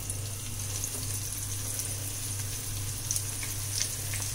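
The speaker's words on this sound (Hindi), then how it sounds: "उसको एक एक करके फ्राई करेंगे" Cornflour-coated chicken pieces fry in hot oil on a high flame, giving a steady, dense crackling sizzle with a low hum underneath and occasional sharper pops, close and continuous.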